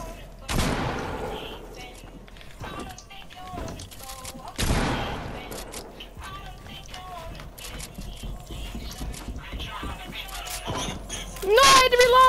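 Gunfire in the Fortnite video game: a few sharp shots stand out over a background of game sounds, with a player talking throughout.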